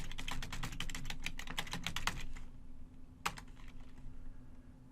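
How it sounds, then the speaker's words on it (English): Quick, close keystrokes on a computer keyboard, entering a command in a dense run of clicks, then a pause and a single firmer tap like the Enter key, followed by a few faint clicks. "Type the command dbinsert domains and press enter"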